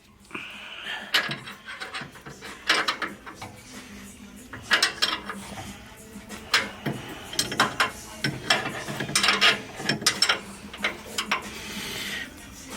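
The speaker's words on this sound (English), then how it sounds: "Tighten that side up. So what are you doing now? Torquing the bolts?" A ratchet wrench tightens bolts on a mobile detail van, with irregular clusters of close metallic clicks and clanks that come and go throughout and grow busier toward the end.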